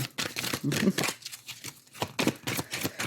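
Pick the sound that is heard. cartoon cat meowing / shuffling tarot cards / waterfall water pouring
shuffling tarot cards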